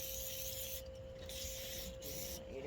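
Cleaner sprays onto a carburetor part from a 2005 Yamaha Royal Star Venture in three short, faint hissing bursts, over a steady background hum.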